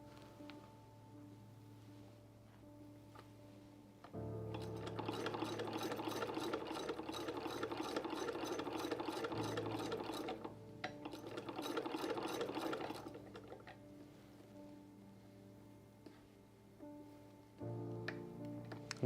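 A sewing machine stitches seams on Edwardian trousers in long steady runs of rapid whirring, pausing briefly between runs before starting again, close and with no talk.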